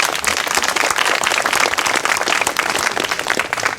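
An audience claps continuously for a few seconds, a dense patter of many hands at an even level without rising into cheers, and no voices over it.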